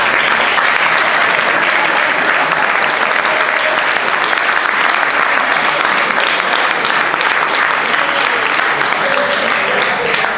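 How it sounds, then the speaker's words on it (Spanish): Loud, sustained applause from a large crowd at a tribute show fills the whole stretch, a dense, even roar of clapping. "para ellos un gran aplauso porque es un homenaje."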